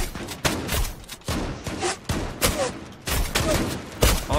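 Gunfire in the video game Zula, sharp bursts of shots repeating in quick clusters across the stretch, loud and close, with no voices over them.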